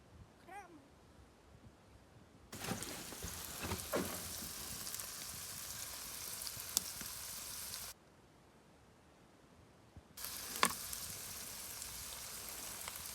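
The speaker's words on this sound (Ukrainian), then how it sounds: "Ще сальце пожаримо." Salo, cured pork fat, frying in a pan at a makeshift base, giving a steady close hiss and crackle that cuts out briefly and then resumes, with faint sputters and no talk.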